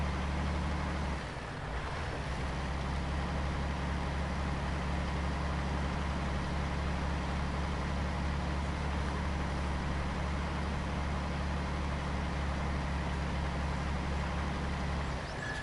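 Truck in the Mud Runner game, American Wilds, a continuous low engine rumble as it drives, steady and close with a brief dip near the start.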